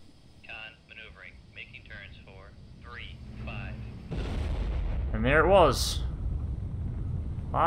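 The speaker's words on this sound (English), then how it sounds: "this harpoon missile should absolutely wreck them" A Harpoon missile strikes and blows apart a Type 072 Kwong Sha landing ship in the Cold Waters submarine game, played from a Seawolf-class sub in the South China Sea; a loud broad explosion rumbles in over earlier talk and lingers as sustained roar.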